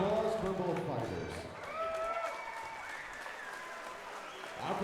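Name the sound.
crowd applause for both fighters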